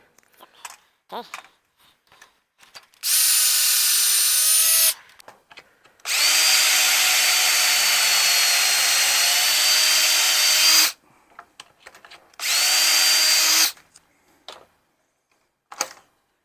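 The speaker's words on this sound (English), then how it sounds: "pocket hole in here in these four sides, so that we don't have to screw it on on the face of the leg" A power drill bores pocket holes into wooden plant-stand legs, three loud sustained whirring bursts with pauses of near silence and faint handling sounds between them.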